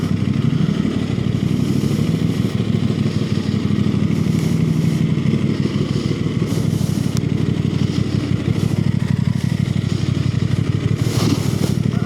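A motorcycle rides through Houston traffic, its engine droning loudly and steadily with wind rush and occasional throttle swells, close and continuous.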